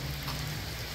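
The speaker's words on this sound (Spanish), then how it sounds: "aquí cae el poquito de agua, no está lloviendo fuerte, pero está lloviendo." Light rain falls steadily outdoors beside a house, a soft even patter with no talk.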